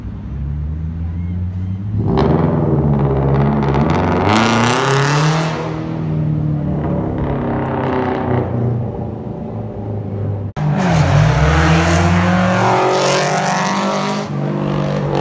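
Car engines roar and rev as vehicles accelerate and pass by, loud and close, with rising and falling engine pitch and a sharp burst near the end.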